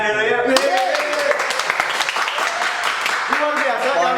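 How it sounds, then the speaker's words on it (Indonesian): A crowd at a market claps steadily for several seconds, a dense patter of applause with a voice speaking over it at the start and end. "Tepuk tangan dulu ya."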